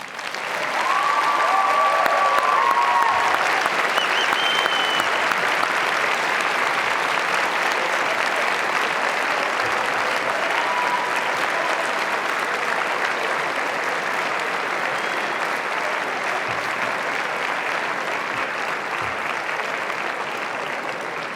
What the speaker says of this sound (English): a special and public thank you by giving them a warm and enthusiastic round of applause